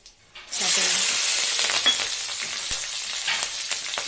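Green chillies hit hot oil with five-spice in a pan and sizzle loudly right away, a bright, steady frying hiss close up with faint clinks, and no talk.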